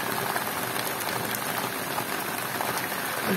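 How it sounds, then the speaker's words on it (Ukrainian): Steady rain falls on a waterlogged vegetable garden with zucchini plants, a dense continuous patter close by with no talking. "Просто вам показую, що є дощ. Дощ є, дощі йдуть."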